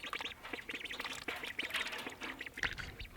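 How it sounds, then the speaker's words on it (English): Pet ducks, with a busy cluster of close, rapid quacks and chirpy peeps overlapping in quick succession. "Just checking in on the ducks."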